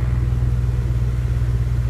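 Acura Integra with a swapped K20 engine idling steadily at close range, a low, even rumble holding a constant pitch throughout with no revving.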